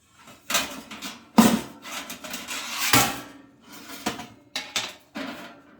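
Metal air fryer pans clattering and knocking as one is set into another in a Hamilton Beach air fryer, a series of close, sharp clanks and scrapes spaced irregularly over a few seconds.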